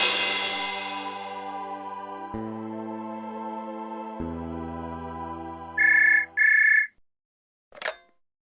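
A phone ringtone plays a ringing melody with echoing tones, followed by two short electronic beeps and a brief final chirp, then silence.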